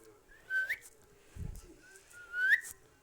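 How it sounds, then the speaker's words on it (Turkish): A person whistles short rising notes twice to prompt a bird to sing, with a soft thump in between; quiet room, no other sounds. "O ıslık sesini ben yapıyorum ötsün diye."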